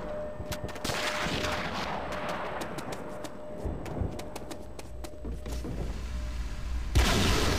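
Close-range M1897 Trench Gun shotgun blasts in a Call of Duty: World at War Wii team deathmatch, a rapid run of sharp booming shots amid busy battlefield gunfire, ending in a louder burst.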